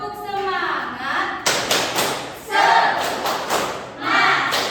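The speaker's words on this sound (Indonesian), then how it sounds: "Ibu akan mengajak anak-anak semua untuk tepuk semangat" Schoolchildren in a primary-school classroom performing a rhythmic spirit clap, a teacher's voice leading before the group bursts into loud, sharp bursts of clapping and shouted chanting, repeated in a couple of energetic waves.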